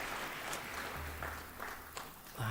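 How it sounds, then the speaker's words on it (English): Graduation ceremony audience applauding in a large venue, steady moderate clapping from many hands with a few sharper claps standing out, somewhat distant. "You can applaud that."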